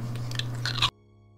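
A crunchy snack made from Japanese Kyushu golden sweet potatoes is bitten with one close, crisp crunch and a short burst of chewing, then the sound cuts to near silence.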